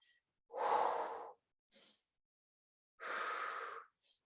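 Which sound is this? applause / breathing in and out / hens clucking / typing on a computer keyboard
breathing in and out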